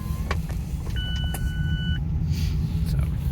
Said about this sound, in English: And the roof is closing.